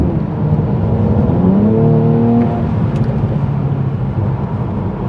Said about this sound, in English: it's just so lovely to drive this car, and this is such a fun road